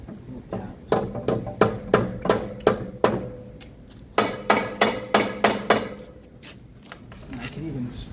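Hammer tapping on the steering knuckle of a 2014-2018 Subaru Forester, a string of sharp metallic strikes in two quick bursts, close and distinct.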